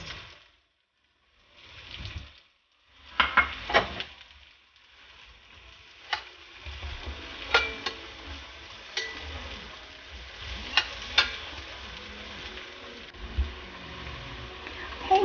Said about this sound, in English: Let that saute. We're going to cook up our garlic and onions first.